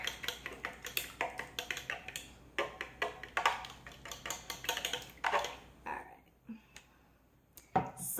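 A fork clacks and scrapes against a bowl while stirring zucchini bread batter, giving quick irregular taps in bursts that stop briefly near the end before a final clink.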